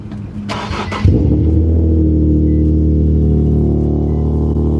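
Infiniti Q50s car engine revving up sharply near the mic and settling into a steady, loud drive hum, with a brief burst of cabin noise at the start.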